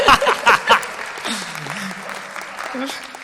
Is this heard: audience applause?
yes